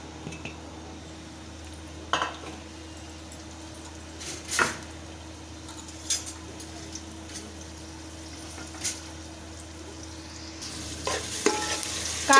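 Onions sautéing in a pan for pav bhaji: a faint, steady sizzle throughout, broken by occasional sharp clinks and scrapes of a spoon stirring against the pan.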